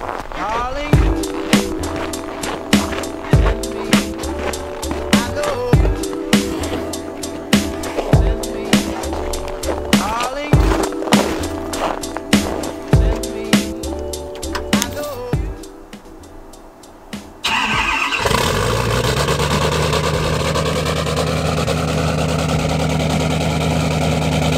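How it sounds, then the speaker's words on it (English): A Ford Powerstroke diesel engine on a cold start, with repeated sharp clicks and knocks for about fifteen seconds, then a pause, then the engine catches into a loud steady idle rumble; a person talks at times. "we gotta get a cold start of the diesel"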